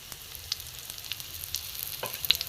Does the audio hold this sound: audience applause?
no